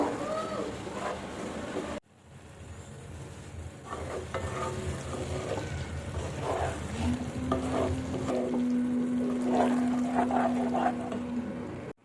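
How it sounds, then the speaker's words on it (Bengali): Vegetables stirred into hot spiced oil in a home kitchen, loud continuous frying sizzle with scraping stirs of a spatula, building after a brief cut at the start. "এখন আমি কিন্তু সমস্ত সবজিগুলো তুলে দিলাম একটু ভালোভাবে নাড়াবো"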